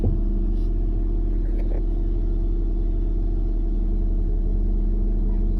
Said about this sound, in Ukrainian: Працює мотор гарно, рівномірно.